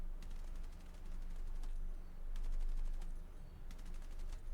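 AK-205 rifle fired in Battlefield 6 REDSEC, bursts of sharp shots popping over a low rumbling game backdrop, fairly quiet and steady rather than one loud volley.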